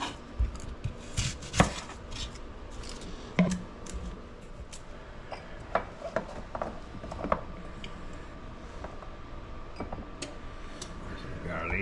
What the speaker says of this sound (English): we will cut up our onion for this too